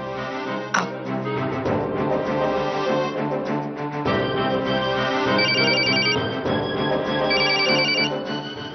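A repeated call sets a telephone ringing in a Hindi TV drama scene, with two short bursts of high electronic ringtone tones in the second half, partly buried under loud, dense background music.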